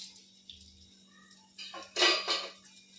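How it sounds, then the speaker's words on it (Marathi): A little oil going into a cooking pan: a faint clink early on, then a louder burst of metallic scraping and rattling of the pan and utensil, over a low steady hum. "यात थोडंसं तेल घालूया"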